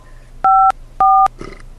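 Two clear telephone keypad tones, each held about a quarter second with a short gap between, entering a number into a voicemail system, followed by a faint rustle and no voices.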